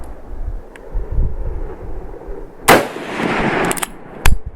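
An Enfield hunting rifle fires two sharp, loud shots about a second and a half apart, each followed by a brief ringing tail, over outdoor wind noise.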